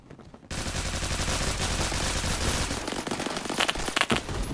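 Rapid automatic gunfire in Roblox Phantom Forces crackles in a dense, loud burst after a brief quiet start, sharp shots piling together almost continuously to the end.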